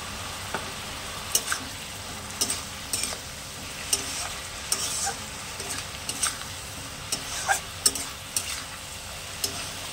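Curry with turmeric, spinach and tilapia stirred in a pan, a soft steady simmering sizzle under a series of sharp, intermittent clacks and scrapes of the spoon against the pan, close and unhurried, no speech.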